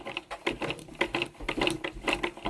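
A home sewing machine stitching fabric makes a close, fast mechanical clatter of rapid needle strokes that runs steadily throughout.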